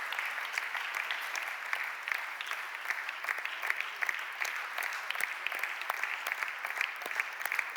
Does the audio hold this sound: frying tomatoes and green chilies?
no